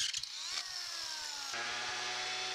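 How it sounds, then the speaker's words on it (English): A power drill whines continuously close by, its pitch sliding and shifting as it bites, with a low rhythmic rattling underneath. "Now you'll notice I'm going up and down to drill here"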